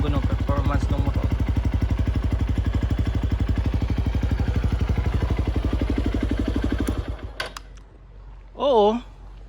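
A Honda CRF150L motorcycle runs with an Exos X6 exhaust and no silencer, idling close with a loud, rapid, even thumping pulse before cutting off abruptly, followed by a brief voice.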